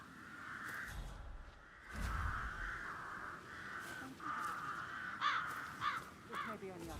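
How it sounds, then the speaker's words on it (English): Crows caw repeatedly in the Hitman 3 video game, several harsh calls spread across the scene over a soft outdoor ambience, with faint voices murmuring in the background. "Damn birds! If I could just get a clear hit on those nests."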